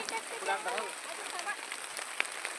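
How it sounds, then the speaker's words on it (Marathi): Heavy rain pours onto a farm field as a dense, steady hiss, with a person's voice speaking over the downpour. "लय जोरात पाऊस आला आता."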